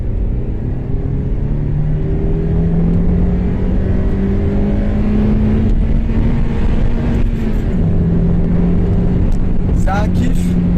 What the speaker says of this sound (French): Le moteur s'entend vraiment beaucoup et ça s'entend